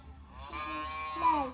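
A single cow gives one short, drawn-out moo with a rising tone, fairly faint and alone, in a simple village setting.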